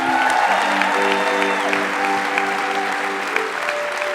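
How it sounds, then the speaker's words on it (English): Applause from a live storytelling show audience in Los Angeles, a steady dense clatter of clapping filling the room for several seconds, with a sustained musical tone running underneath. "Give them all a round of applause."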